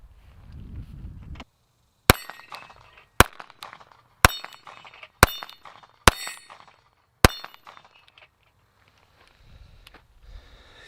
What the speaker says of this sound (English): So I'm gonna shoot some of these, see how it runs.